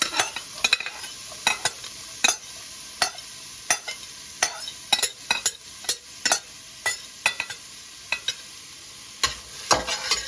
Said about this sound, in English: we're going to saute that until the onions are starting to wilt